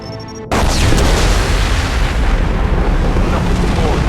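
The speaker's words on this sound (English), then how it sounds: "It's going to explode." A massive Mass Effect 2 explosion erupts suddenly and roars on as a loud, sustained rumbling blast that fills the space after a brief quieter moment.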